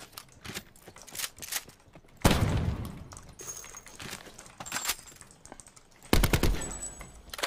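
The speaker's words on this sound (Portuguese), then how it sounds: "Fui eu que atirei aqui agora." Gunfire in Call of Duty Black Ops 4: bursts of rapid clicking shots and two heavier, louder volleys, with game noise between.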